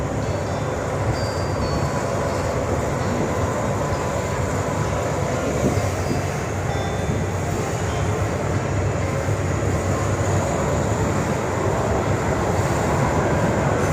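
A steady, loud rumble of a third-class Thai passenger train in daytime, with continuous rattling wheel and carriage noise throughout and no talking.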